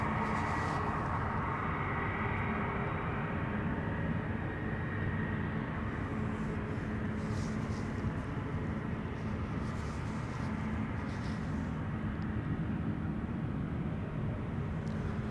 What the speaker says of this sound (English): That is a 777-300ER. It's the PHBVV.